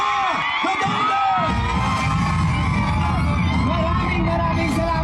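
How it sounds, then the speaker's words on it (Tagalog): A large crowd at a political rally roars with cheers, whoops and shouts to welcome Vice President Sara Duterte, a loud, dense and sustained wall of voices that never lets up. "ating salubungin ng mainit na palakpak at sigawan. Vice President Sara Duterte!"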